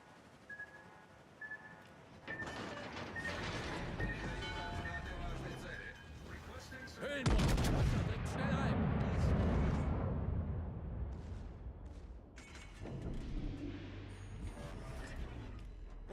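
Warship guns fire on an enemy warship in a naval combat video game, with a heavy boom midway rolling into a sustained rumble, amid scattered lighter blasts and game effects while people talk over it.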